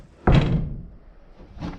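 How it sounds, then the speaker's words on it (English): A heavy door in a rustic saltwater beach cabin slams with one loud, booming thud, followed by a softer knock a moment later. "There's a heavy door, so I want to put the nice hinges on there."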